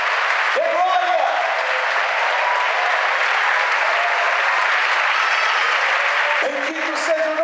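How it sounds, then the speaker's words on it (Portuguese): Church congregation applauding in worship, sustained thick clapping from many hands that carries on evenly, with short bursts of voices over it at the beginning and again near the end. "Bata a palma e dê glória, igreja."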